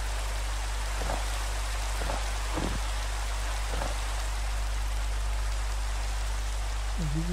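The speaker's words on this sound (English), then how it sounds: "oh, it started raining." Steady rain pours down in the Minecraft video game, a dense unbroken hiss with a few faint low thumps partway through and a brief rising tone near the end.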